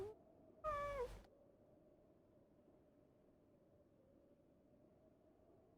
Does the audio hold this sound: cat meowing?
yes